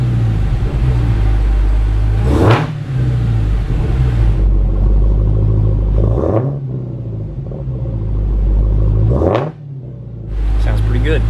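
A Dodge Challenger Hellcat engine rumbles with a deep, steady idle, rising in three brief revs before settling back to its low growl; loud and close.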